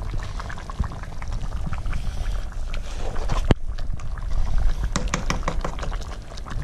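A pot of water boils steadily for wild goose with rice and dumplings, with a dense bubbling rumble and a few sharp clinks or splashes over it, close and continuous.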